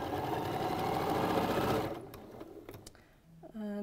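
Sewing machine stitching stacked cushion pieces together, a steady, close motor whir that stops after about two seconds, followed by faint handling clicks and a brief voice.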